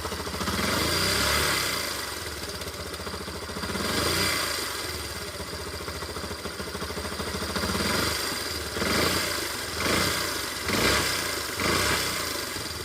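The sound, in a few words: motorcycle engine with loose tappet screw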